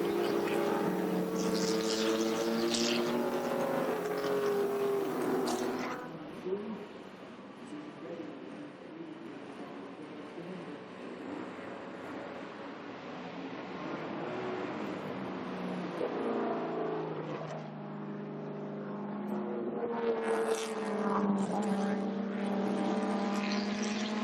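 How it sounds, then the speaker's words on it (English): Datsun race cars run at full throttle, their engines revving hard with rising, wailing pitch that swells, fades and returns, with a voice talking over the roar. "Ray is really on the gas, and those cars are in hot pursuit"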